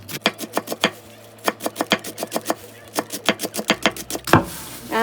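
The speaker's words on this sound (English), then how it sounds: "now she is going to finely chop some green onion" A knife finely chops green onions into thin slices on a cutting board: close, crisp, rapid taps in steady runs, broken by brief pauses.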